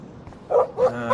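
A dog in Life is Strange gives a couple of short, muffled barks close by, over a low background hum.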